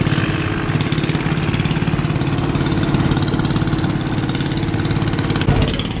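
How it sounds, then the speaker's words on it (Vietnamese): A boat engine runs steadily as a boat is moved into place at a dock, a loud, close, continuous mid-pitched throb with an even pulsing rhythm throughout and no talking. "Hôm nay chắc dời ghe cho gọn quá"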